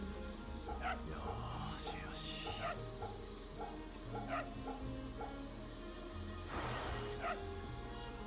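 A dog in the video game Samurai Remnant gives a string of small yips, barks and whimpers over game music, with bursts of noise from the game in between.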